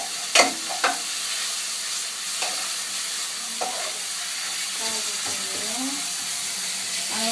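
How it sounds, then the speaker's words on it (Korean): Meat and garlic stir-frying in a frying pan for mapo tofu: a steady close sizzle with a few sharp utensil knocks early on, then softer scraping and stirring. "멋있게 잘 볶아주고 있네요."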